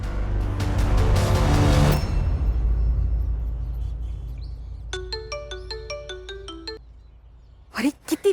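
A phone's ringtone plays a repeating electronic melody for a couple of seconds, following a loud musical swell and preceding brief voices.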